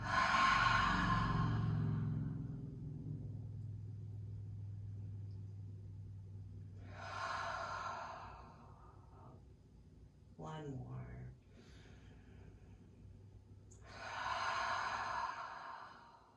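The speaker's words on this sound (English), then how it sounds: "Take a big inhale and a big exhale." A deep, slow inhale and long exhale during a seated, reclined yoga session, soft breath swelling and fading in long waves, close to the ear with quiet gaps between breaths.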